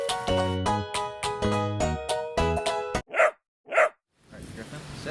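A Golden Retriever Newfoundland mix dog barks nearby in a quick run of loud, resonant barks, then two short, sharp sounds follow before the clip goes quiet.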